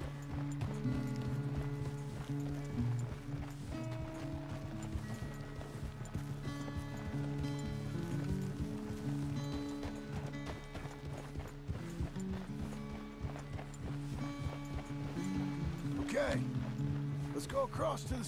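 Horse hooves clip-clopping in Red Dead Redemption 2, a steady walking rhythm that continues throughout alongside sustained tonal background sound.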